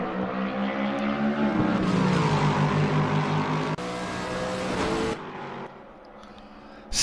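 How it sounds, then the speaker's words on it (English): A V8 Lexus GT3 race car at speed during a 12-hour race at Mount Panorama, its engine roaring loud and continuous, pitch rising and falling through gear changes, with a brief drop near the end. "the hills are most certainly alive with the sound of speed. It's with the V8 Lexus GT3"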